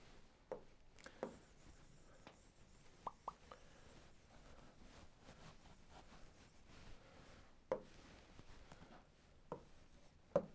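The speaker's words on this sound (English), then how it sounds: "I'm going to try to write a little bigger here" Marker strokes on a board, a string of faint scratchy taps and short squeaks spread unevenly over a quiet room, with no one talking.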